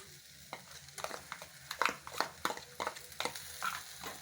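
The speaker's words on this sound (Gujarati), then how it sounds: "આપણે વચ્ચે વચ્ચે હલાવતા રહીશું" Kachori filling being stirred in a pan after salt and ginger-chilli paste are added, a series of scraping, clicking spoon strokes at an irregular rhythm over a soft sizzle, close and fairly quiet.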